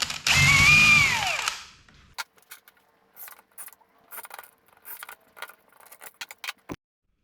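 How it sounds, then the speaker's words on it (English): A power drill countersinking screws into softwood while building an outdoor table from 2x lumber: a short, loud rising-and-falling motor whir, then silence broken by scattered light clicks and handling taps. "Want to countersink those just a little bit."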